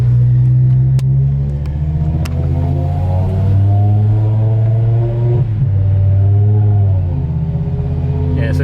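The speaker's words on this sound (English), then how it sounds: "We are moving again in the E60 without destruction noises." BMW E60 M5 driving after a clutch replacement, a deep steady engine drone with rising and falling revs through gear changes, heard from inside the car, loud and continuous.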